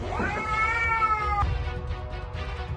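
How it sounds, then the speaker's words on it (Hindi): A single drawn-out, strained cat meow with a harsh, complaining tone, close by, followed by low rumbling background noise. "जैसे गुस्से में म्याऊं करना"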